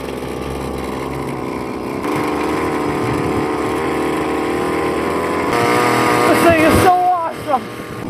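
Vintage two-stroke rototiller engine mounted on a motorized bicycle runs with a loud, steady buzzing drone that rises in pitch toward the end, close by and continuous.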